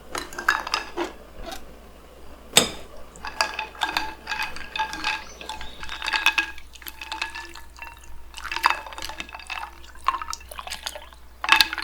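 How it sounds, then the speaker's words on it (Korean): Boiled rice noodles for bun cha being rinsed in ice water in a kitchen: clinking of utensils against a bowl, dripping and splashing water, and scattered sharp knocks in irregular bursts, close up with no talk. "불려둔 면을 30초 정도 삶아서 얼음 샤워를 시켜준다."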